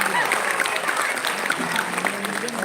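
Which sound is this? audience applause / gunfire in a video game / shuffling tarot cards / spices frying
audience applause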